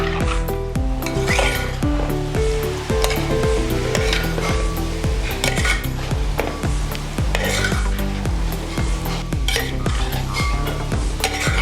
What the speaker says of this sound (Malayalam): നമുക്കിത് നന്നായി ഒന്ന് മിക്സ് ചെയ്യാം.